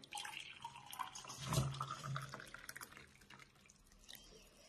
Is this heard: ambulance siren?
no